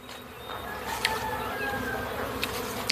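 A constant buzzing of bees hovering nearby on a farm, a steady drone with a few short clicks and knocks, with no talking.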